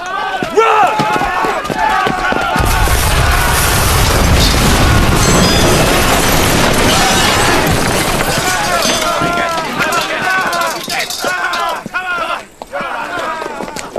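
An overheated cannon aboard a ship bursts with a heavy, roaring boom that rumbles on for several seconds amid shouting voices and clattering debris, then fades into scattered crashes and talk.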